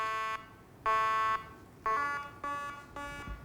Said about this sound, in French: elle envoie des bips sonores au conducteur grâce à des radars à